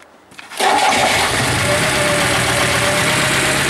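A VAZ 2101 car with a 1.7 engine running on one dead cylinder cranks and catches after a brief quiet start, then settles into a loud, rough, steady idle close by.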